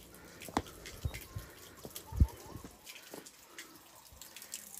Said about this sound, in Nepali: बहुत पुरानो यो चिन्डोको धारा।